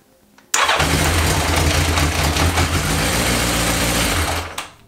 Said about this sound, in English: I'm just going to crank it over just to get the oil flow through the new filter and so on, and then top the oil up, and then we'll get it actually fired